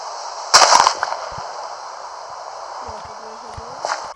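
TNT blows up in Minecraft: one sharp burst near the start with a short crackling tail, then a fainter second pop near the end over a steady background hum.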